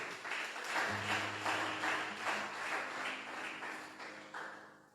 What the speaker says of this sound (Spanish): Dame ese aplauso al Señor.